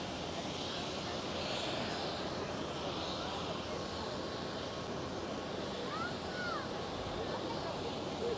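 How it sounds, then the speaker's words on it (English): An EasyJet Airbus A320neo taking off at Amsterdam Schiphol, a steady broad engine roar held at a distance under a live commentator's voice. "EasyJet is lined up on the runway and will be going right about now. And it is an EasyJet A320 Neo"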